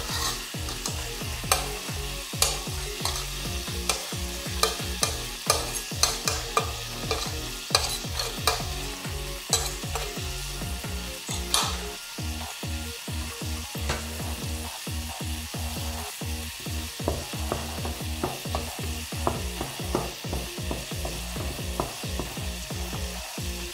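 Garlic and ginger frying in a pan, a continuous sizzle broken by a steady run of scraping, clattering stirs with a spatula, close and fairly loud, with no talking.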